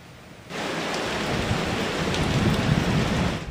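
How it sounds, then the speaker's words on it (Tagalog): Heavy rain and strong wind from Super Typhoon Nando in Santa Ana, Cagayan sweep in after a brief quiet start, a dense continuous hiss of downpour that stays loud and steady to the end. "Vicky, magdamag binayo ng malakas na hangin at tuloy-tuloy na pag-ulan ng buong Santa Ana, Cagayan"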